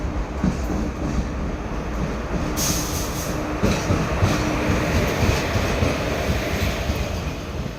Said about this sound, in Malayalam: നമ്മൾ നമ്മുടെ ട്രെയിൻ അതാ വരുന്നുണ്ട് കേട്ടോ